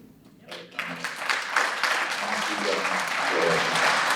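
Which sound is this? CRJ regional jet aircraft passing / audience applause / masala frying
audience applause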